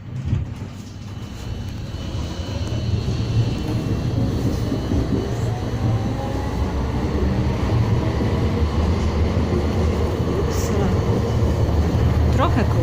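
A German tram rumbles and rolls along the rails from inside, a steady low mechanical drone building gradually with faint squeals and rattles.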